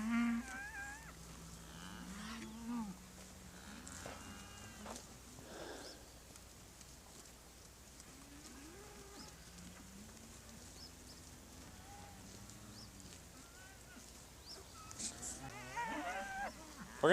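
Cattle being moved along a farm lane toward cooling ponds: low, drawn-out moos and calls at a moderate distance, repeating through the outdoor ambience, with no talk.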